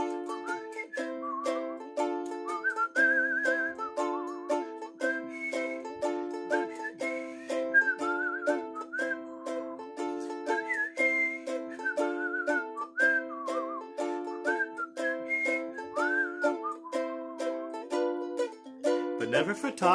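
A person whistles a light, melodic tune with clear sustained pitches over a steady accompaniment of repeated chords, the whistled line weaving along continuously for the whole stretch.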